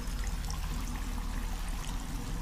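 Water trickling and pouring in the survival game The Forest, a steady close stream of liquid running continuously without any break.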